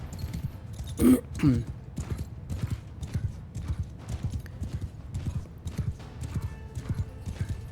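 Horses' hooves clip-clopping in Mount & Blade II Bannerlord, a quick irregular patter of many hoofbeats throughout, with a couple of louder neighs near the start.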